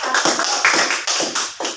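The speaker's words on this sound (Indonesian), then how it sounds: "boleh beri tepuk tangan kepada kelompok" A classroom of students clapping for a group's presentation, a burst of close, irregular hand claps with a few louder swells across the short span, no voices on top.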